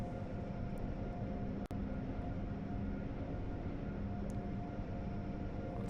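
Acela high-speed train at full power in Train Sim World, a steady loud broadband rumble and roar that holds constant throughout, with a single sharp click partway through and no talk.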